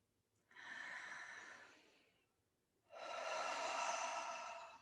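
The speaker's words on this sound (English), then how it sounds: "We're just going to take a deep breath with you." A deep breath taken slowly and audibly: a long airy inhale, a brief pause, then a fuller, louder exhale, close to the microphone with no talking.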